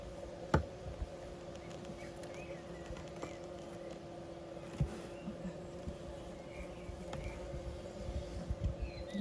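Steady droning hum of many bees buzzing together, continuous and moderately loud, with a few brief knocks and clicks nearby.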